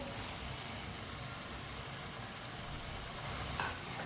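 Fried okra tipped into a pan of cooking chicken, a steady sizzle and the scrape of stirring running throughout, with a brief louder clatter near the end.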